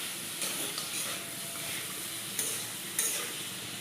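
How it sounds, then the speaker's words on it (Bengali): Small crab legs frying in a pan alongside fried bottle gourd peel, a soft, even sizzle with a few gentle stirring scrapes and taps, fairly quiet and close. "এবার আমি এই ছোট যে পাগুলি রেখেছিলাম এটাকে এই ভাজার দিয়ে দিয়েছি, এটাকে আরেকটু ভেজে নেব।"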